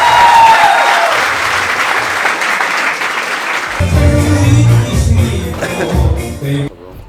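A comedy-show audience in Klaipėda claps loudly in a dense burst for several seconds, then the applause gives way to tonal music or voices with a few scattered claps underneath.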